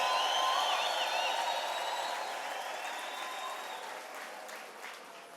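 Church congregation applauding together during a sermon, a steady dense wash of clapping that starts loud and gradually fades over several seconds, with faint crowd voices mixed in.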